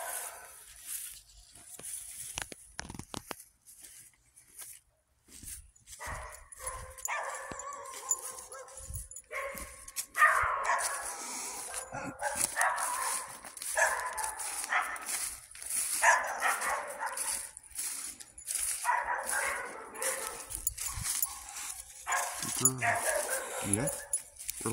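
Dogs barking behind a fence on a rented property, a mix of barks, yips and whines at moderate distance, with people talking over them.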